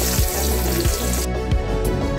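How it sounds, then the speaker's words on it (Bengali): Cubed paneer fries in hot mustard oil in a kadai, a loud steady sizzle with a few soft clinks of stirring, no voices. "সর্ষের তেলে ভেজে নিলাম।"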